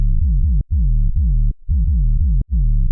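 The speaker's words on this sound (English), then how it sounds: "Just a really distorted sub bass" A heavily distorted synth sub bass for a tearout dubstep drop throbs in a repeating pattern of deep, gritty low notes, broken by short clicks and gaps, loud and alone.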